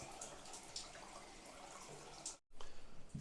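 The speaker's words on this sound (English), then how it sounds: "we do have hot water coming out of the tap" Hot water running from a hotel sink tap, a steady splashing stream with faint drips, a brief cut near the end before the flow resumes.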